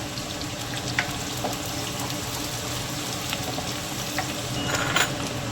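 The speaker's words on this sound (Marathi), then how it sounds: "कांदा लालसर उदेपर्यंत त्याला हलवत राहायचं" Sliced onions fry with cumin seeds in a hot pan, a continuous close sizzle with scraping stirs and small crackles throughout, no voices.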